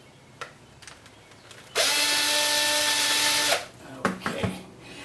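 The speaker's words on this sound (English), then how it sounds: "Take a pilot drill." A power drill with a pilot bit bores a screw hole in a wooden clamp during a repair, a loud steady whine lasting under two seconds, framed by clicks and handling knocks before and after.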